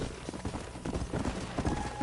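Horse hooves clip-clop on the ground in the Western video game Red Dead Redemption, a dense run of close, repeated hoofbeats from several riding horses.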